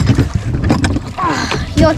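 A rowboat is rowed on the water at Studley Park, with splashing, creaking oar strokes close by and people talking over the wind noise.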